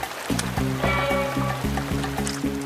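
Thick molasses pours out in a cartoon scene, a steady glugging liquid flow with regular pulsing bursts, close and fairly loud, alone without talk.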